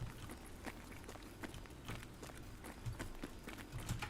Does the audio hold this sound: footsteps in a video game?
yes